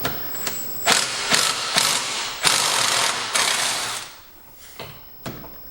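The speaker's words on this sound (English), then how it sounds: "Grab the socket from my impact driver." A cordless impact driver with a half-inch socket hammers at a bolt on the frame of a 2017 Yamaha golf cart, loud close bursts of ratcheting rattle, five or six runs of varying length separated by short pauses.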